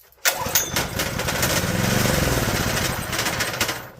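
A junkyard Honda GX160 small engine fires up at full throttle with choke on, catching abruptly and running rough and loud with a rapid rattling chug that holds steady for a few seconds.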